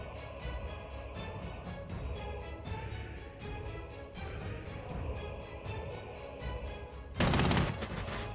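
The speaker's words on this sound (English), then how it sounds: "Artillery." Artillery fire in the video game Panzer Corps 2: a steady series of muffled firing thuds and rumbles, then one loud, sharp blast near the end, with no talking.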